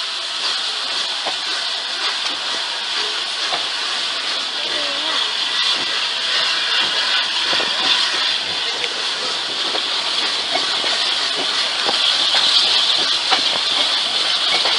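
Flying Scotsman steam locomotive pulling away at Shildon Railway Museum, a steady hissing steam rush with faint rail clatter throughout, while people talk nearby.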